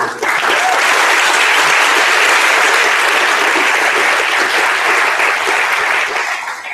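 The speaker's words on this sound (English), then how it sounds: "if we get a round of applause from it" Loud, dense applause from a demo day audience for volunteer mentors, a full continuous roar of clapping that swells quickly and holds steady before tapering off.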